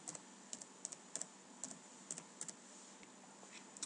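Code typed on a computer keyboard, a steady run of light, close key clicks in uneven clusters over a faint constant hum, no voice.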